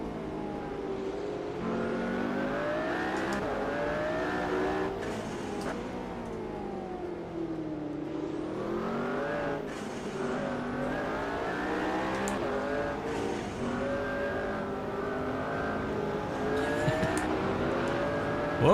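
Race car engine in a racing video game, loud and continuous as it climbs through gears with rising and falling pitch sweeps, occasional shifts and brief tire squeal, with no talk.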